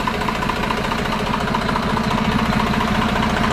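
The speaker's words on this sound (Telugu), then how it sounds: "ఎంత స్మూత్గా ఉంది ఇంజన్ అసలుకి" A tractor engine runs at idle after a rebuild, a loud, close, steady rumble with a fast even knocking pulse that holds without change, no voices.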